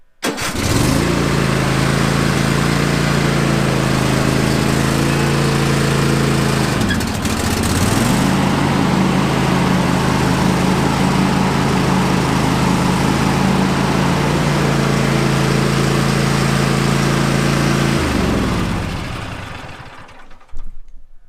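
Cub Cadet XT1 LT46 lawn tractor engine cranking briefly, then catching and running at a steady loud drone, dipping once as the load changes before settling again and shutting down near the end.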